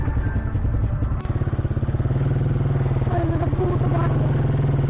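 Motorcycle engine chugging with a steady, rapid pulse along a rough road of loose sand and soil, near and fairly loud, with clatter and a brief rattle early on.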